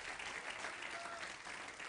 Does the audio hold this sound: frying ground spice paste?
no